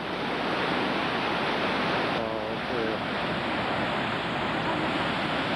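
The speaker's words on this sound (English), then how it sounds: "I don't know whether you can hear me over the roar of the falls." Hooker Falls in New Zealand roars as a loud, steady wash of broadband rushing water, with a voice briefly speaking underneath the noise.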